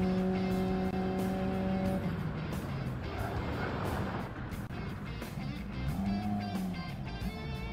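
Race car engines roar steadily in Gran Turismo as the leader fails to brake and crashes. The engine tone shifts and blurs under a brief rush of impact and scraping noise, and quiet commentary runs beneath it.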